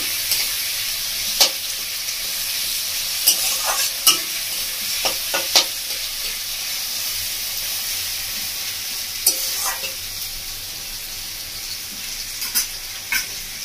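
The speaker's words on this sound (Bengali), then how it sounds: "পেঁয়াজ লঙ্কা টমেটো ভালো করে একটু ভেজে নেবো মাছ ভাজা তেলের মধ্যে" Onion, green chili and tomato frying in oil left over from frying fish, a continuous close sizzle broken by sharp, irregular scrapes and clacks of a spatula stirring the pan, with no voices.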